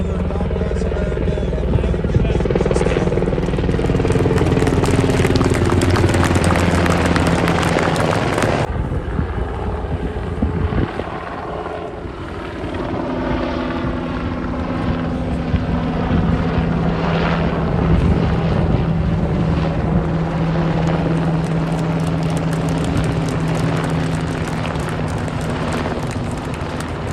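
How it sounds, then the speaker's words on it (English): Military aircraft flying low over an outdoor Veterans Day ceremony in the U.S. produce a heavy, rumbling roar that swells and then slowly fades, filling the open air over nearly half a minute. "I'm getting beat up here by the flyover."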